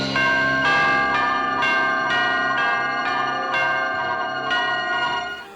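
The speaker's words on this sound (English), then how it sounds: "Give a listen to the clock tower bells." Clock tower bells ring out in a steady peal, each strike overlapping the ringing of the last, loud and resonant with no voices.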